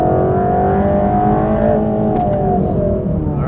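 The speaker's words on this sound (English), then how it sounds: "To the apex and gently accelerating back out." AMG GT3 race car accelerating out of a corner on a track, its engine note rising steadily and loud with a smooth, sustained whine and no voices.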